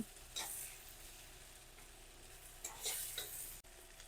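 Food with turmeric stirred in a sizzling pan, a quiet continuous sizzle with scraping stir strokes and a brief clunk near the end, close and faint, with no talking.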